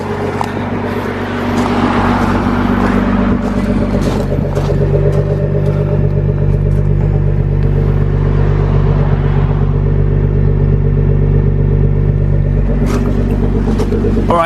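A Nissan GT-R R35 fitted with an Armytrix Valvetronic exhaust idles warm from close behind the car, a deep, steady rumbling drone with a brief swell early on, loud and continuous without talk.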